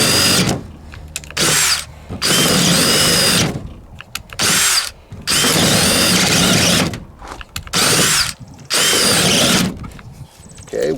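Cordless 18/20 volt drill boring a 5/8 inch bit into a 4x4 post, loud and close, in repeated whining bursts that strain and bog down, separated by short pauses.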